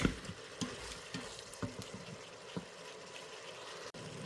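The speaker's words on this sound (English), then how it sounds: "Next thing we're going to do is we're going to add our garlic" Minced garlic sizzles quietly in a pot of Zuppa Toscana base, with scattered clicks and scrapes of a spoon stirring at an uneven pace, close but fairly soft, with no voices.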